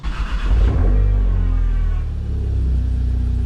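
A Volkswagen MK6 GLI's 2.0 TSI engine revs up loudly, then settles into a deep, steady idle rumble close by.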